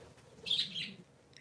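Small pet parakeets let out a faint, brief chirping trill against a quiet indoor background, one short cluster of high tweets with a tiny peep at the end.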